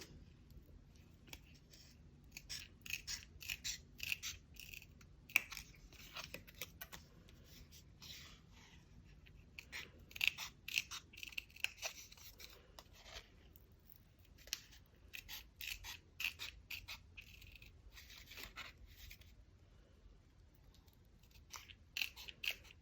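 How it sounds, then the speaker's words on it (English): Scissors snipping out the centers of paper photo slides, many quick crisp cuts in irregular bursts with short pauses and faint paper rustling, close and fairly quiet. "cut out your centers"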